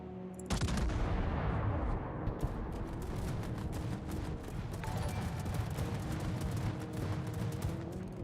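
Artillery fire in the naval battle game World of Warships, with a sudden roar of dense, continuous rumbling bursts and booms that stay loud and sustained throughout, with no one talking over it.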